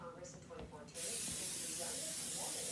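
Cooking spray hisses onto a baking pan in a toaster-oven kitchen setup, starting abruptly after a second of quiet room tone and running as a loud, continuous close hiss.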